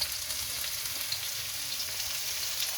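Onions frying in a pan for Cantonese-style fried rice give a steady, close hiss of sizzling that runs unbroken and stays even in level throughout.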